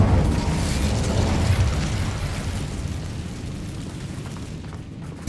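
An Incendio fire spell is cast in the Hogwarts Legacy video game, a loud roaring whoosh of flame with a booming low rumble that slowly fades over several seconds, ending in a sharp pop.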